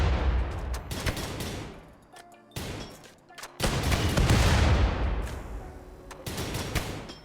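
Colonists' gunfire in the game Rimworld, fighting exosuit bots near a tank barrier, heard as dense loud volleys of shots and booms with two brief lulls and no one talking.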